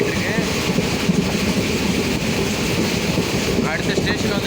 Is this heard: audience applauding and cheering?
no